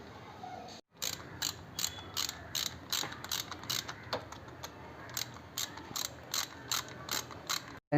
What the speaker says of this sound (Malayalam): ഇനി ടെൻഷനർ ഇൻസ്റ്റാൾ ചെയ്ത് കൊടുക്കാം